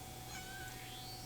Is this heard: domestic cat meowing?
yes